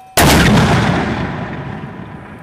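A mortar fires during a training exercise, one sudden loud close blast with a long rumbling echo that slowly fades over the next two seconds.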